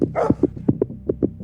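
Cadaver search dogs barking during a police search of gardens, sheds and open fields, a string of sharp, fairly close barks and yips in a steady irregular rhythm, with no talking.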